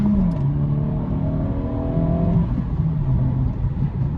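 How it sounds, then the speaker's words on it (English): A 2023 Acura Integra A-Spec with a six-speed manual revs hard around a corner and climbs in pitch through the gears, loud and close, with a steady throaty drone underneath. "I basically gunned it around that corner"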